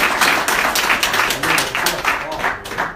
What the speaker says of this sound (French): On peut applaudir notre responsable technique.